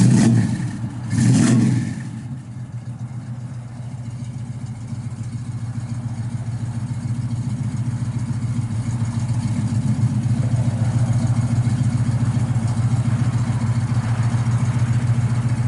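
A 1968 Plymouth Barracuda fastback with a 440 engine and 50 series mufflers idles through its exhaust, a steady deep rumbling burble after a brief louder blip at the start, continuous and close.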